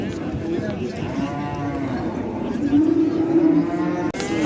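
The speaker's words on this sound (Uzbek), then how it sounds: "Galishtayn sigir taroziga chiqyapti" A Holstein cow at a livestock market moos in one long, loud, drawn-out call that swells toward the end, with a faint murmur of market voices underneath.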